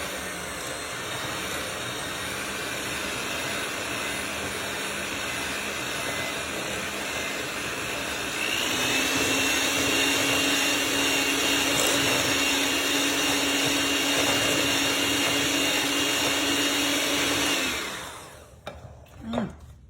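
An electric mixer creaming peanut butter and butter together, a steady loud motor whir that rises to a higher speed midway, then cuts off near the end, leaving brief clatter.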